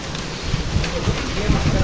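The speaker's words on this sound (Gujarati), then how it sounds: "કરા પડે છે બાહ બહાટી બોલાય જો પતરામાંથી તમને અવાજ આવતો છે" Hail pelts a metal sheet roof during a summer thunderstorm with strong wind, a dense continuous clatter with rough bursts, steady and fairly loud, with a voice faintly under it.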